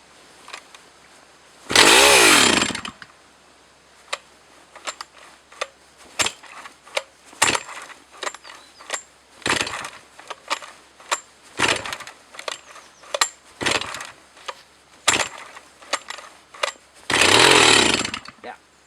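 A Jonsered 60 chainsaw revs loudly twice, near the start and near the end, with short bursts and clicks scattered between the revs.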